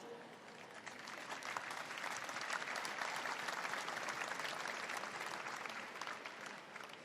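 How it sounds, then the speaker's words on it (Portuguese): Distant, even applause from a large crowd at the Pope's general audience greeting a newly beatified woman, a continuous wash of clapping that swells slightly midway. "Um aplauso à nova Beata."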